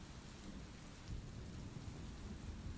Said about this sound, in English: The water splashing against the rocks and the thunder in the distance